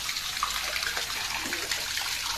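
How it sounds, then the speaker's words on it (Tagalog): Water drains steadily out through the outlet of a concrete fish pond as the murky water is let out, making a continuous, close rushing flow with no voices. "dito ko po pinalalabas yung ating tubig"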